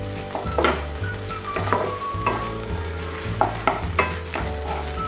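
Ginger-garlic paste frying in a pan for an egg curry, with a loud close sizzle and repeated rhythmic spatula scrapes and clinks against the pan, no talking.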